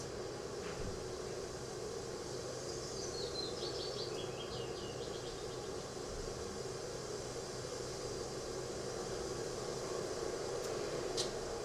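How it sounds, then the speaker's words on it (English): A short run of bird chirps rises midway through a steady wash of wind noise, with a low distant rumble of planes overhead near Gatwick Airport underneath. "The birds and the wind and the planes going overhead to Gatwick Airport."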